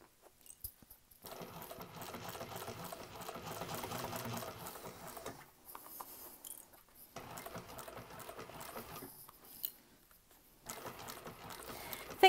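Sewing machine stitching a panel of a bowler bag, running in several bursts of a few seconds each with short quiet pauses between, moderately close and without talk.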